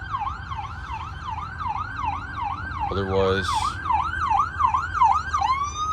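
Wailing sirens from a nearby fire station rise and fall in a steady repeating yelp, loud and close over a low road rumble, with a brief horn-like blast midway and a short spoken word near the end.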